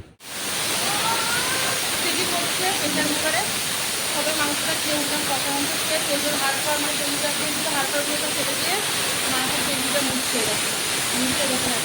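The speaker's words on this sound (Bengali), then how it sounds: "এখানে দেখো প্রেশার কুকারে সিটি পড়ছে ভাত হয়ে গেছে" A pressure cooker with rice inside lets out a loud, sustained hissing steam whistle that starts abruptly and runs unbroken, with faint voices underneath.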